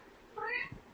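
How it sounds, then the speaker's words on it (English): A cat gives a single short, clear meow close by, followed by a faint rustle in an otherwise quiet indoor space. "my cat should stop meowing."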